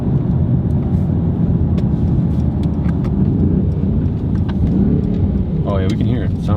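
A BMW engine's exhaust burbles loud and close while driving, a deep rumbling low-end roar that holds steady with a slight rise near the end, and voices talking over it.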